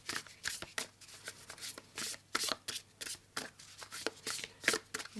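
Close, crisp riffling and slapping of a tarot card deck being shuffled and cut, a quick irregular run of papery flicks and taps with no talking.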